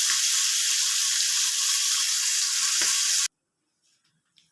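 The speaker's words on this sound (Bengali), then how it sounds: "আমি এই জন্য অল্প তেল দিয়ে মাছটাকে ভেজে নিচ্ছি" Boal fish frying in a little oil in a wok gives a loud, close, steady sizzle for about three seconds. It cuts off abruptly and is followed by near silence with a couple of faint clinks.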